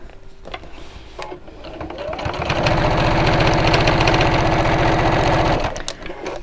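A domestic sewing machine stitches a fabric bag with a lining, outer layer and strap, starting with a few clicks and then running in a steady, close, rapid mechanical whir that stops near the end.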